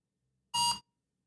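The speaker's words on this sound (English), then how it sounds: "You can hear a little beep with the Nunchuk every time you do that." A single short electronic beep from the Nunchuk hardware wallet app while scanning a QR code, bright and clear, lasting about a quarter second against near silence.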